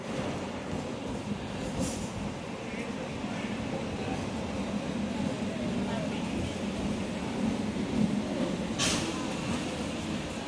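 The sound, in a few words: local train arriving at platform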